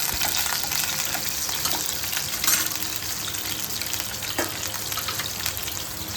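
Small and large onions hit hot oil with fried fenugreek seeds, giving a loud, continuous close-up sizzle and crackle with occasional stirring scrapes and no talk over it.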